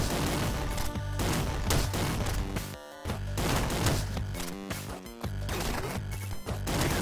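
Rapid bursts of punchy, crunching gunfire from the Puncher weapon in the roguelike game Downwell, loud repeated blasts stacked over a driving game soundtrack with brief gaps between volleys.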